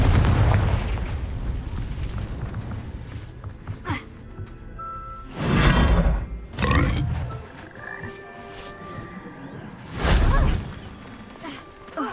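Confringo blasting spell explosions in the Hogwarts Legacy video game, several deep booming blasts spaced a few seconds apart over a rumbling battle backdrop with other game effects.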